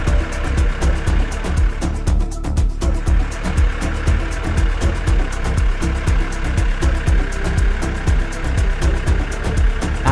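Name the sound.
modern tractor engine working with seeder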